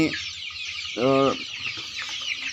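A desi chicken gives one short, loud harmonic call near the middle, over a steady hiss of background noise with a few faint clucks.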